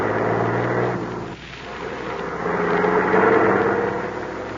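A car drives along a main highway in an old-time radio drama, its engine a continuous close rumble with a brief dip in the middle before the steady motoring sound swells back up.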